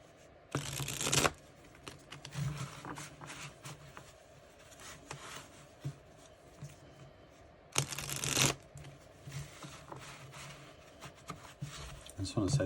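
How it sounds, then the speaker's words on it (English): Tarot cards are shuffled by hand in two brisk, loud bursts, separated by a quieter stretch of soft rubbing and handling noises. "so I'm just shuffling them one more time for myself."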